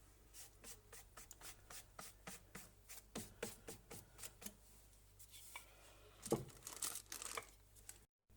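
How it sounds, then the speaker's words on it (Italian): A sheet of puff pastry is rolled out with a run of soft, rhythmic rubbing strokes, quiet and close, with one slightly louder scrape near the end before it stops. "Stendiamo un altro pochino"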